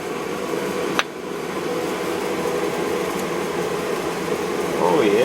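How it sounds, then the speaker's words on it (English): A 3/8 drill bit boring through a part on the rear suspension of a 1966 Chevy truck, a steady continuous whirring drone close up that swells slightly louder at the end, with a voice briefly heard. "I'm going to run a 3/8 drill through it"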